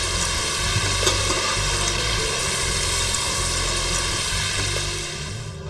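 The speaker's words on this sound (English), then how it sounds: "Fry for about 3 minutes over low heat." Steady, dense sizzling of potatoes for French fries frying in hot oil over low heat, a continuous crackling hiss at an even level that eases slightly toward the end.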